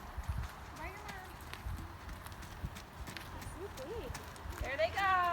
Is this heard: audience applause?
no